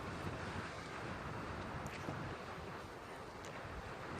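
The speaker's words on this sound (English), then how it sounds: "some good gust all night. It's been blowing. It hasn't stopped." Wind at a pine-ridge campsite roars steadily and buffets the microphone, broadband and unbroken, with no voices.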